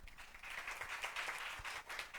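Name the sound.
congregation applause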